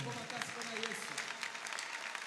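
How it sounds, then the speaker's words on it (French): A congregation at a funeral service applauds steadily in a reverberant space, a dense wash of clapping with a voice audible underneath. "Des acclamations à Jésus-Christ."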